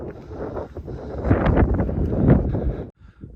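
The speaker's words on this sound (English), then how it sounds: "The wind is blowing." Cold wind gusts across the highest summit of the Appalachian Trail, a steady, loud rumbling buffet on the microphone that swells and falls for several seconds before dropping out briefly near the end.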